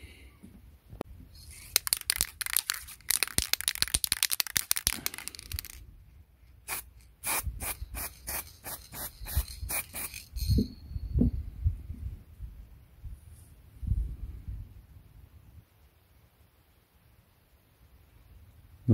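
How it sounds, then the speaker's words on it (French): Aerosol spray can applying varnish onto a moped fuel tank, short hissing bursts in quick succession, first a dense cluster and then separate puffs, close and moderately loud before fading to quiet handling noise. "on va essayer de mettre un petit coup de vernis à la bombe"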